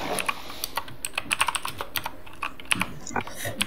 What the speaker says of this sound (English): I was gonna start typing in chat.